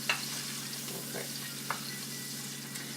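Bacon frying in a pan gives a steady, quiet sizzle with a few faint clicks of stirring or utensil contact, no talking.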